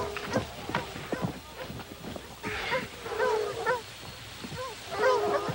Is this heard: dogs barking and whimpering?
yes